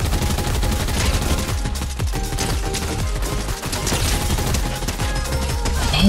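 Rapid sustained gunfire in Fortnite, dense bursts of overlapping shots rattling almost continuously, loud and close throughout.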